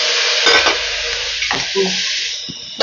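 Ingredients frying in an oiled pan while a spoon stirs them, with a loud close sizzle running throughout and broken by a few sharp scraping strokes and clinks of metal on the pan, with no talk.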